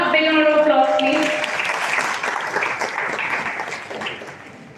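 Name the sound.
audience applause at college orientation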